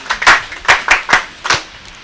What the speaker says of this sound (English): Clap hand for yourselves.